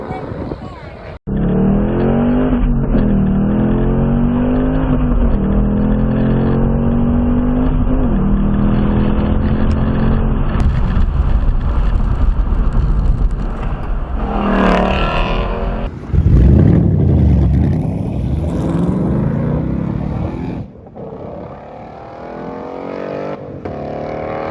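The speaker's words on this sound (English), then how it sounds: "test engaging the ABS brake system and then practice threshold braking" A Ford Mustang Mach 1 on a racetrack engine, loud and sustained, rising in pitch under hard acceleration, then shifting abruptly as the driver brakes hard with ABS engaged; a person talks over much of it.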